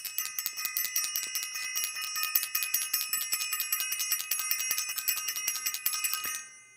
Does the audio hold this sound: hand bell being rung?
yes